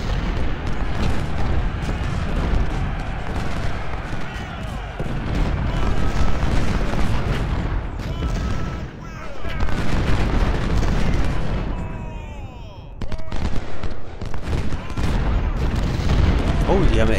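Cannon fire booms across an Ultimate General: Civil War battle at Shiloh, dense and continuous, with layered artillery blasts and musket volleys rumbling beneath someone talking over the game.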